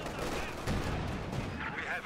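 A Wehrmacht MG42 machine gun barrage in a World War II strategy video game: a steady, dense crackle of distant automatic fire with mid-range thumps, and faint voices mixed underneath.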